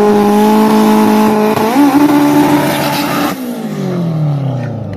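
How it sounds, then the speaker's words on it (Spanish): A drag car at a racing meet holds a loud, steady high engine whine during a burnout, with tires squealing, then the note wavers and winds down with a falling pitch. "El burnout de Elevor."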